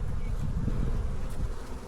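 Angry honey bees buzz in a hive box, a dense, continuous low drone of many wings close by, steady and fairly loud with no speech.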